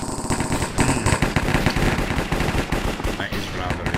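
Rapid automatic gunfire from the Minecraft game Hypixel Cops and Crims, dense overlapping shots rattling continuously at close range for the whole stretch.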